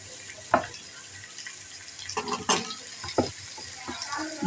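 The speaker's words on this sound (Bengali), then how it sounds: "আলুগুলি নেড়ে চেড়ে একটু ভেজে নেব" Potatoes fry in a little oil while being stirred, a continuous sizzle broken by several louder scraping and clattering bursts from the stirring, close by and with no voices.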